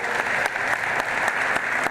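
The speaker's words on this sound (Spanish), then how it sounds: "Le brindamos un aplauso al maestro" Audience at an Americas sustainable agriculture and carbon event applauds a guest speaker, steady dense clapping with a few sharper claps standing out, moderately loud, under two seconds long.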